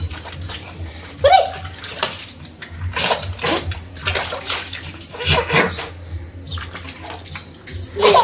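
Nine-month-old twin baby splashing in a bath tub during an India-style bath, with irregular bursts of water slaps over a constant low hum and adults talking nearby.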